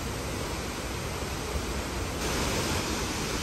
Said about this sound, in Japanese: もう一つの滝、ミソルハの滝に到着しました。